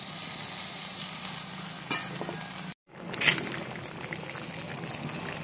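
A hot pan of sautéed jackfruit curry sizzles steadily as water is added. The frying hiss continues across a brief break, with a few clinks and stirring sounds and no talking.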